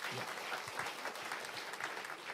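A church congregation applauds during a sermon, a short burst of dense, steady clapping from many hands, moderately distant, with a voice faintly present.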